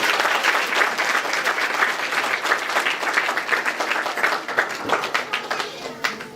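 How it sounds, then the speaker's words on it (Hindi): A church congregation claps for the Lord during a Hindi sermon, sustained dense applause for several seconds that gradually thins out toward the end. "ताली बजा दे प्रभु के लिए एक बार।"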